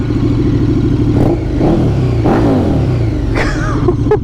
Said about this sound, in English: I love the noise of a twin, they're just such beefy, raw sounding engines.